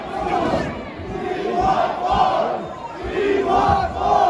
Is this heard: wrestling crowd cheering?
yes